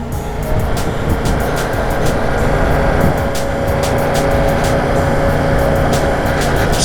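A 2024 Yamaha R7 motorcycle is ridden on the road, with loud, steady wind rush and engine drone that holds at an even level throughout and no talking.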